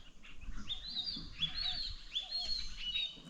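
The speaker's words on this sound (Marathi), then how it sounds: "पाखरांचं किलबिलट आहे संध्याकाळ म्हटलं की पाखरं ओढत असतात" Small birds chirp and tweet in quick high bursts at sunset in a Konkan village during the monsoon, soft and somewhat distant over a quiet outdoor background.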